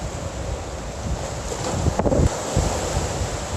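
Water waves splashing outdoors in nature, a continuous rushing wash with wind noise on the microphone and a brief stronger splash surge in the middle.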